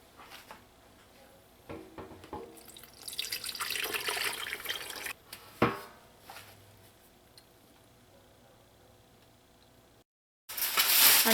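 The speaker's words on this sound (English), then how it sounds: "so I can drain out that gravy from on the bottom." Gravy drains from a baked turkey onto a cookie sheet, a close liquid pour that swells into a gush, then a knock and trickle, a long quiet stretch, and a sudden loud burst at the end.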